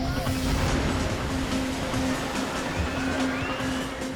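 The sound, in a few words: giant ocean tsunami waves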